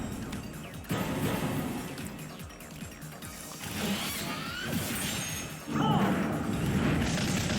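An Earth Shattering Stomp attack in the Digimon Story Cyber Sleuth game lands as a dense wash of crashing booms and thuds, swelling in bursts over battle sounds, with a few sharp rising effects near the end.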